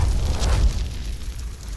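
A firecracker thrown to light a beacon fire bursts in a deep, rumbling boom. A roaring wash follows and slowly fades over under two seconds, with no voices.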